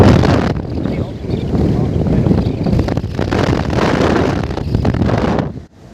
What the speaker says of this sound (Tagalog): malakas ang hangin, 30 knots